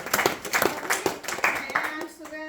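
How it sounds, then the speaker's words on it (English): A small group claps at a Bhakti Vriksha Bhagavad Gita gathering, a few distinct claps close by that thin out as a voice begins. "Give a round of applause to both the Matajis"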